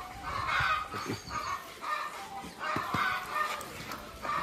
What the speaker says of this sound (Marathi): ते कोंबडीने अंडी घातले त्यामुळे कोंबड्या ओरडायले.